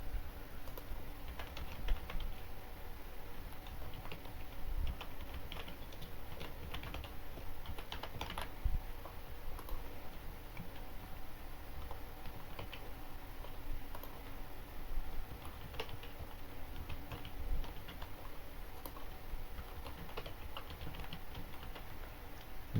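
Someone types account registration details on a computer keyboard in a long, steady run of soft, close key clicks with occasional louder taps, and no one speaks.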